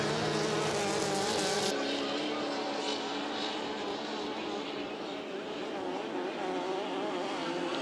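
A racing boat in a 2.5 litre hydroplane heat at Valleyfield roars steadily and loudly throughout the clip, a sustained high-revving engine drone at full speed.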